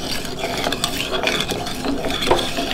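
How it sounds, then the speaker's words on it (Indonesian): Coconut jelly drink mixture of water, sugar and coconut-flavoured jelly being stirred in a pot, a continuous close scraping and swishing of a utensil against metal for a few seconds, with no talking. "Kita aduk-aduk terus sampai matang."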